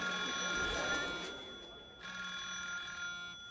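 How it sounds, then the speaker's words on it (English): A cell phone rings in an anime scene, a steady electronic ringtone with sustained tones that pause briefly midway and then resume, fairly clear against a quiet background. "Sorry about that. Just my cell phone."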